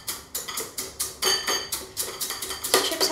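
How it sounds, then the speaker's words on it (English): Tortilla chips crushed in a bowl make a rapid run of crisp cracks and crunches, each with a bright clatter against the bowl, close and fairly regular, no voices. "So I'll give them a nice little crush in the bowl."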